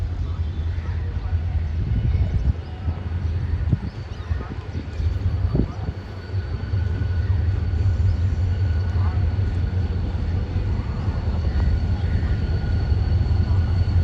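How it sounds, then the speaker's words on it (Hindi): An NLC GMU 30 diesel locomotive pulls into Malir railway station, giving a steady, heavy low rumble that swells slightly and holds near and loud for the whole stretch. "तो NLC लोकोमोटिव आ रहा है, NLC GMU 30।"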